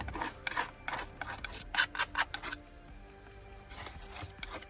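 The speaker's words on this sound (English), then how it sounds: "So now I'm going to just scrape over the top like I usually do with some blue." Blue paint scraped across the top of an abstract painting, a run of short rasping rub strokes close up in quick succession, then a quieter, fainter scraping pass.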